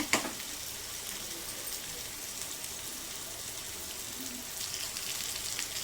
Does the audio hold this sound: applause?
no